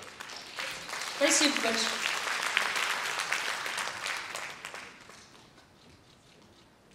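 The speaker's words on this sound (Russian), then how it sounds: "Слышите аплодисменты?" Concert audience applause swells to a peak and then slowly fades away over several seconds, with a voice speaking briefly over it.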